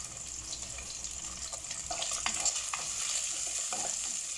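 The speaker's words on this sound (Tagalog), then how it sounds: "ilagay na natin ang ating egg yolk, salty." Salted egg yolk sautés in a pan for a vegetable soup, with sizzling and scraping stirs of a spoon, close up and busy with no one talking.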